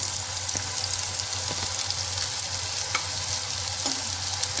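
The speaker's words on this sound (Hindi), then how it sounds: "इसे स्लो फ्लेम में धीरे धीरे से हिलाते रहेंगे। अब प्याज हल्के ब्राउन हो चुके हैं।" Onions sizzle steadily in hot oil in a pan over a low flame with dried red chillies and garlic, with a few soft scrapes as they are stirred slowly and continuously. No one speaks.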